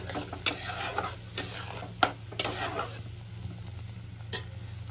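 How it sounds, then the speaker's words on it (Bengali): Onion paste frying in oil in a pan, a low steady sizzle with sharp intermittent clicks and scrapes of a spoon stirring against the metal, close and quiet with no voice. "এবার আমি পেঁয়াজটা ভালো করে কষিয়ে নেব, এর কাঁচা গন্ধটা চলে যাওয়া পর্যন্ত।"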